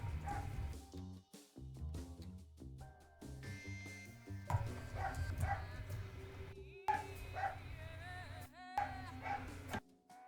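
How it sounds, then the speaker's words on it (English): Barking dog in the video game Danganronpa Another Episode: Ultra Despair Girls, set against busy game music and effects, with short bark-like yips standing out in the mix. "When the dog starts barking."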